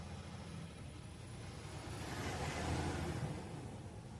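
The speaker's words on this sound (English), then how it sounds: "you're going to hear traffic going by" Traffic passing on Main Street in Mount Morris, a faint, broad road rumble and hiss that swells as a vehicle goes by around the middle, then eases off, with no speech.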